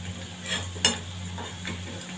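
Soft sizzle of potatoes frying, with a few light scrapes and clicks as they are stirred in the pan, quiet and close.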